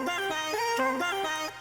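Chopped vocal syllables doubled by a copy pitched an octave lower, stepping through a short repeating melodic figure with bright stacked harmonics, fairly loud and alone.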